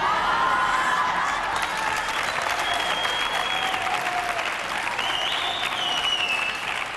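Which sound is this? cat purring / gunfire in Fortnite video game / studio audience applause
studio audience applause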